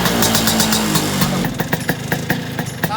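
A Vespa scooter engine with a coloured smoke bomb lit in its exhaust runs loud and close, a buzzing two-stroke drone that drops into a sputtering, popping idle halfway through.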